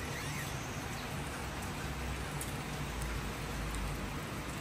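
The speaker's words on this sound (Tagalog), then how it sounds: "umuulan pa." Soft, even patter of rain falling on surfaces in Malabo, Equatorial Guinea, continuous and fairly distant, with no voices.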